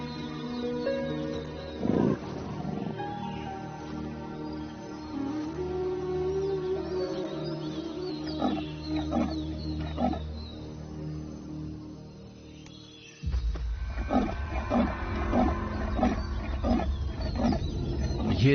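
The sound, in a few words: panther (Scarface) roaring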